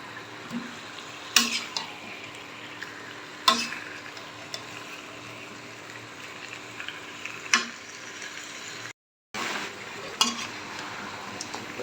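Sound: spicy goat meat being sautéed and stirred in a pan

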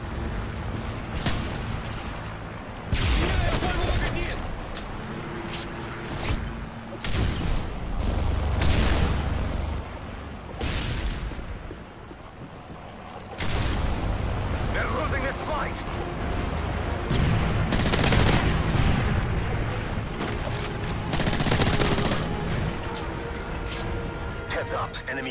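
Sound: friendly Hind helicopter gunfire and explosions in a video game

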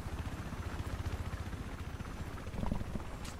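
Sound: helicopter in video game Battlefield 4

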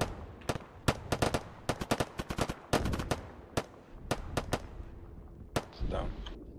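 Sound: incoming gunshots

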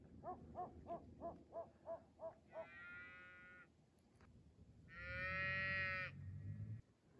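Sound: bottle-fed calf calling in the snow

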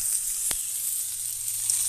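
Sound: haddock fillet sizzling in pan over campfire

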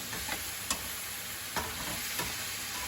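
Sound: stir-frying in a hot pan

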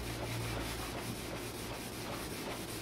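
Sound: buffing off French polish with worn fabric

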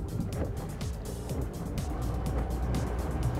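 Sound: Torqeedo Deep Blue 50R electric outboard motors accelerating Phoenix 290 boat

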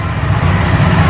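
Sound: Ducati Panigale V4S motorcycle engine first startup

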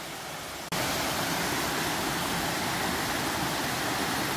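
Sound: waterfall

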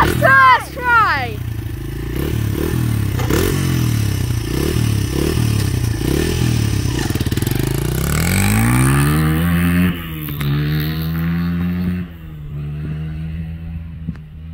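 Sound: Honda CRF100F motorcycle riding a lap

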